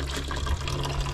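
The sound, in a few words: water running from a tap into a container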